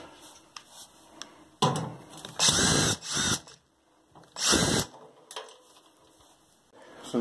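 A power drill backs bolts out of a Samsung WF331ANW front-load washing machine during a teardown, with several loud close bursts of whirring separated by short pauses and quiet handling.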